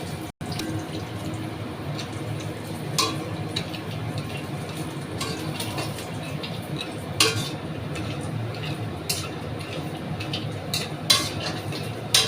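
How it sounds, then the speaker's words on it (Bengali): Lentil boris frying in oil, a soft continuous sizzle with occasional clinks of a utensil against the pan, steady and fairly quiet with no talking. "বড়িগুলো দিয়ে একটু সুন্দর করে লাল লাল করে ভেজে নেবে"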